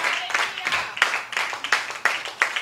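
A church congregation claps together in a steady rhythmic beat, many hands striking at once in quick repeated bursts, with voices blending in underneath.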